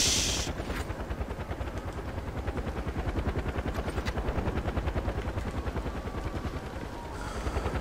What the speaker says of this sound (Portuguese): Ah, o helicóptero, mano.